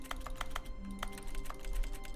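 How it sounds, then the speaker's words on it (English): Sharp, dry clicks in the office game The Stanley Parable come in an uneven run of about a dozen taps, like keyboard keys, over a low steady background hum with no voices. "I like the clicky sound effect."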